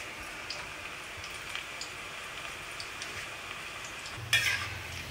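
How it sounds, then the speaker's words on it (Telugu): Pakodis frying in hot oil, a steady soft sizzle and crackle running throughout, with a brief louder clatter near the end. "చూడండి ఇదిగో ఇట్లా వేగుతున్నాయి."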